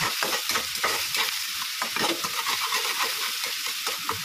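Ginger paste stirred as it fries in a pan: a steady close sizzle with a rhythmic scrape and clatter of the spoon repeating throughout. No one speaks.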